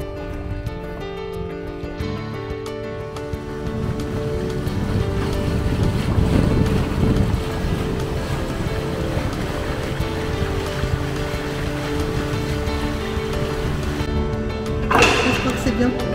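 Steady wind rushes over a sailing catamaran at sea off Martinique and Dominica, with water sloshing beneath and a voice talking over the noise.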